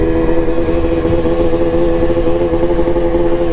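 A Yamaha DT200 motorcycle idles close by, its steady, loud engine burble holding an even, continuous rhythm throughout with no voices over it.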